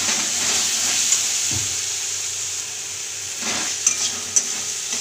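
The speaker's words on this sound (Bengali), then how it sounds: "অল্প জল দিয়ে একটু কষে নেব মশলাটাকে।" Spice paste fries with a splash of water for a Bengali begun ilish jhol, giving a steady, close hiss of sizzling broken by occasional stirring scrapes and a few brief louder clicks near the end.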